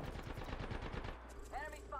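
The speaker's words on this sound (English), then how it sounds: "Oh shit, he's getting shot at." Rapid automatic gunfire in the Apex Legends video game, a dense burst of repeated shots for about a second, then quieter in-game sounds with a rising electronic tone afterward.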